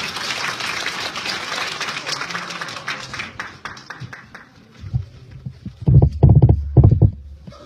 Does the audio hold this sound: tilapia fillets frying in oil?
no